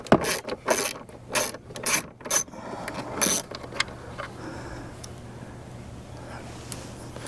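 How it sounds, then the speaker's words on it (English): Self-tapping screws driven into a plastic mirror housing while fitting a vehicle LED lighting kit, a series of short ratcheting, grinding bursts in the first few seconds, then quieter scattered clicks. "These are definitely self-tapping, tapping right into the plastic there."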